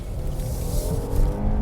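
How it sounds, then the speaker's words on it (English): A 2020 Kia Telluride rolling over a massive road bump, its steady low tire and road rumble filling the cabin with a brief thud and jostle midway, no voices. "To illustrate the point, here is a massive bump."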